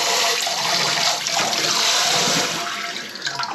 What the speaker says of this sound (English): I'm going to rinse off some knives.